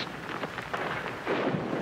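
Thunder from a lightning strike in a 1973 cartoon comes as a rumbling, crackling rush of noise, heard alone at moderate loudness and swelling near the end.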